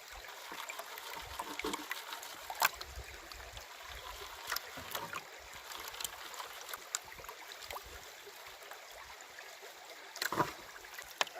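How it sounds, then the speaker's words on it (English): Water sloshes and trickles softly in a gold pan as sulfides from crushed ore are washed off at night, a faint, continuous swirl broken by occasional light splashes and clinks. "So I'm panning off a lot of the sulfides"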